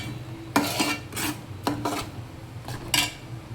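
Tomato paste is being stirred as it sautés in oil in a pan. A utensil scrapes the pan in several short bursts, rhythmic rasping strokes over a faint low background, with no talking.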